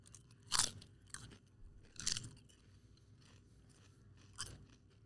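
Spanish potato chips are crunched and chewed close to the mic, three sharp crunching bites spaced apart over quieter steady chewing, with no talking.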